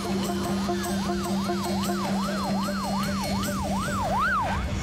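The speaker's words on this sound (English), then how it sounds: "dispatched a high-speed ambulance of the future" A wailing ambulance siren sweeps up and down in steady, repeating cycles, loud and close, with a second steady tone and road noise underneath and no one talking.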